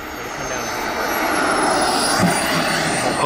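A giant radio-controlled jet plane's turbine roars steadily and loudly on a runway, swelling slightly in intensity with a thin high whine above, with no talk over it.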